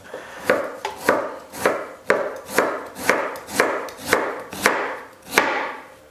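A knife slices through beetroot on a cutting board in a steady series of about eleven crisp chops, close and loud, with no voices.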